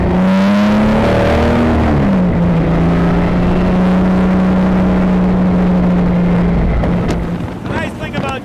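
A Jaguar XK pulls away, its engine loud and close with a deep steady drone that rises in pitch early on, then holds before tapering near the end amid wind buffeting.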